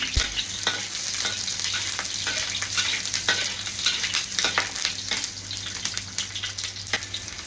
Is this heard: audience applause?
no